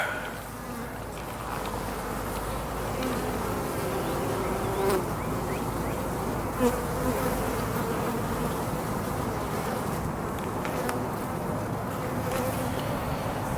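Dense, steady buzzing of many honey bees close by at a hive, a continuous droning hum with no voices.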